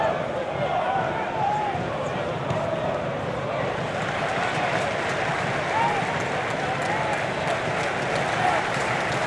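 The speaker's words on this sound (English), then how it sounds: "Well, the crowd are enjoying what they're seeing here, you can probably tell from the atmosphere." Dense, steady crowd noise from spectators at a Watford v West Bromwich Albion Championship football match, a broad roar of murmuring and cheering throughout, with a commentator speaking over it.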